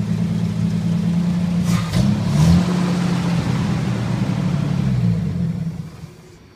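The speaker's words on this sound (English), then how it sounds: "This is the 240 cubic inch six cylinder." A 1956 International Harvester S-160 school bus runs its 240 cubic inch six-cylinder engine, a loud, close low rumble with a brief rev early on before the sound fades toward the end.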